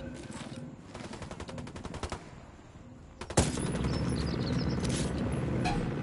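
Gunfire in Ghost Recon, a rapid automatic burst of shots followed by a sharp blast and sustained loud firing and battle noise filling the rest of the clip.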